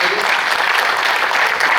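Loud, dense applause from a theatre audience at a Hindi stage play about Samrat Ashoka, performed at a multilingual drama festival at Kala Mandir, Bhilai, sustained steadily throughout.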